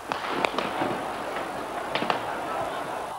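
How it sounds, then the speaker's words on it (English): Scattered sharp cracks and pops of gunfire ring out irregularly at a distance across central Beijing over a steady background hum, some in quick pairs. "The noise of gunfire rose from all over the center of Peking."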